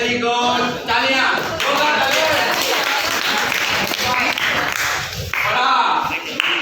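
Children's voices mixed with a burst of quick, scattered clapping in a lively classroom, loud and close.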